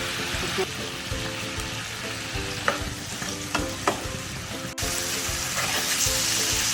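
Spice paste with chilli and coriander powder fries in oil for a rohu fish and papaya curry, a steady sizzle with repeated stirring clicks and scrapes, plus a sudden louder hiss near the end.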